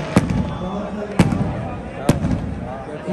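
Outdoor fireworks go off in three sharp, spaced bangs at fairly even intervals, cutting through a steady wash of crowd noise and nearby talking.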